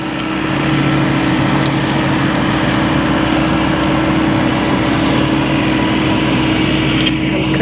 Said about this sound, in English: Comes Chris, working on mowing.